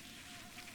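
Buzzing of bees inside the Hollow Knight video game, a steady soft insect drone running faint and continuous for under a second with no voices over it.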